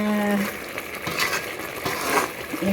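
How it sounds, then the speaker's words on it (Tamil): Fish curry masala with brinjal being sautéed in a pan, giving a moderate sizzle with a few scraping stirs and light utensil clinks, close by, with a brief hum of voice at the start and end. "அப்படியே வதக்கணும்"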